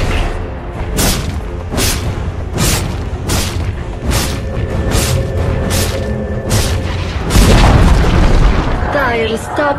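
A tower collapses in a Dota 2 match amid repeated booming explosions and whooshes at a steady beat, loud and close, with in-game combat sounds layered throughout.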